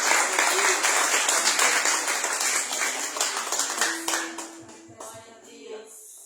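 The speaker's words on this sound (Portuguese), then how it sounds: "Louve ao Senhor com as Suas palmas nessa noite, amém?" A church congregation claps hands in praise at an evening service, a dense, lively burst of many hands that thins out toward the end while a voice speaks over it.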